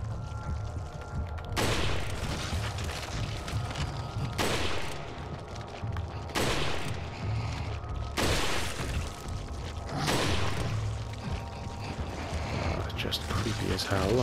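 Rifle gunfire in the video game Resident Evil 4, with about five loud, booming shots spaced a couple of seconds apart over a steady rumbling game background, while someone talks throughout.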